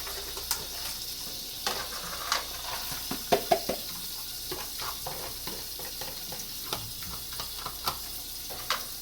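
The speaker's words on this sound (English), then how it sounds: "I will go ahead and turn the eye down and add the onions into the mix, melted butter." Chopped onions sizzle steadily in melted butter in a pan on a stovetop burner, a close, even frying hiss with scattered soft clicks and light stirring taps throughout.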